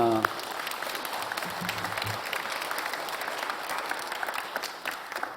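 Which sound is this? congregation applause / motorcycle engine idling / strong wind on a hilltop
congregation applause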